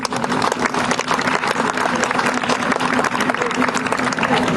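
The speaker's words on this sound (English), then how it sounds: "let's give everyone a round of applause" A crowd gives loud, sustained applause at the opening ceremony of a 2012 Relay for Life event in Fulton, South Fulton and Hickman, with many close, dense claps going on without a break throughout.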